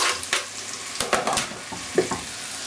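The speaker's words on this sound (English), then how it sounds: "Add the tomatoes." Tomatoes drop into browned, softened fried onions for a tarka. Loud sizzling follows, broken by several stirring scrapes and splashes, close and clear.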